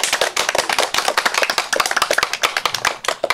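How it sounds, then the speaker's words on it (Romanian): A small group claps together at a birthday surprise for a girl, the rapid, dense hand claps close and loud for a few seconds with no talk over them. "Aplauze!"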